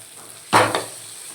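Potatoes go into a hot pan of spiced masala and sizzle in one sharp burst, with a quick stir right after, then settle into a low steady frying hiss.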